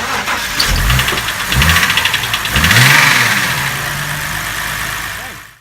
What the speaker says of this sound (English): So start it again and give the accelerator a pump.